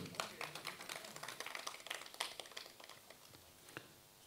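Faint, scattered clapping from an audience at a book launch welcoming Anees Ansari, a few sharp hand claps ringing out irregularly and thinning toward the end.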